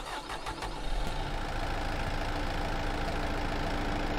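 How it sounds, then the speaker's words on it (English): A Kubota M5 tractor engine in a video game cranks with a few quick starter pulses, then catches into a loud, steady diesel idle that runs on close and alone. "So first we're going to look at the Kubota M5, because why not? So let's start it up."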